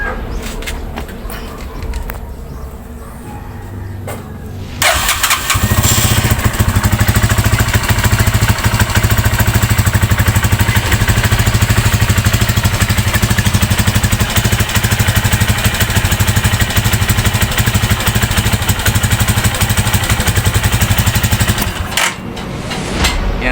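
An Armatsu 150 motorcycle engine starts after a quiet stretch and runs loud and close with a steady, rough idle, then cuts out near the end; faint talk is barely present.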